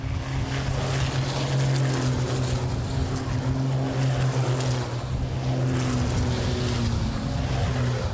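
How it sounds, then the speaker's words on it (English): Onboard a Freightliner racing truck at the Jarama circuit, its engine drones loud and continuous with a steady pitch and rushing wind noise throughout, close and unbroken. "This, the view on board with Adam Lachko in the Freightliner."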